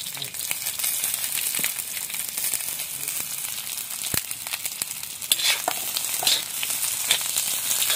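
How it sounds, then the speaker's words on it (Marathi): Chopped onion sizzling and frying in hot oil in a pan during home cooking of a cashew curry, a steady crackling hiss with occasional louder pops, close up with no talk. "आता कांदा टाकूया."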